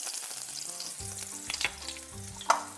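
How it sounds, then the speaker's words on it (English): Two tablespoons of garlic-infused olive oil sizzle loudly in a pan, a bright crackling hiss with sharp spits and pops, close up, over a soft sustained musical bed. "So I'm adding 2 tablespoons of garlic infused olive oil here to the pan."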